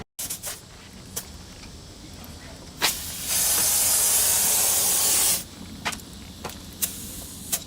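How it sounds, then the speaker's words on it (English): Air hisses steadily out of a dually truck tire for about two seconds, loud and close, framed by short clicks and brief sputters of the valve before and after. "Putting air in the tire. Taking air out, actually."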